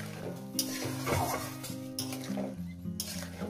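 Onions dropped into hot oil in a pan while a fish curry cooks, giving a bright continuous sizzle with spoon scrapes and light pan clinks, close and fairly loud, over a faint musical hum.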